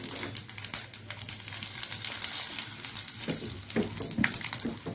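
Cumin seeds hit hot oil in a pan for a mushroom dal and crackle and sizzle steadily up close, with scattered sharp pops over a dense hiss.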